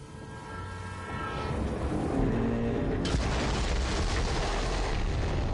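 A train in the video game Borderlands 3 rumbles loudly and steadily, with a tonal horn-like hum early on and a sudden burst of broadband noise midway that keeps roaring to the end, with no talk.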